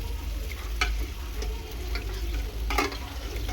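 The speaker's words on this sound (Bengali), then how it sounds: "আর এদিকে কচু শাকটা হচ্ছে" Taro leaves cooking in a pan sizzle and crackle steadily at close range, with occasional scrapes of stirring and light clicks and no talk.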